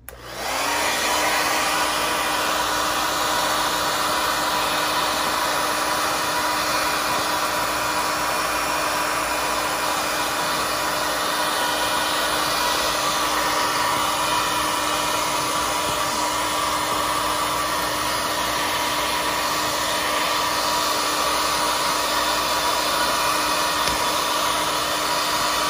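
Heat gun warming a Thomas Payne RV foot rest cover to loosen its seams, a steady loud blowing whir with a constant motor hum that runs unbroken throughout, no talking.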